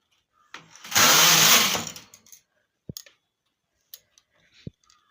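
A knitting machine carriage running a row of red wool for a rose pattern, one loud close whirring sweep lasting about a second, followed by a few faint clicks and taps.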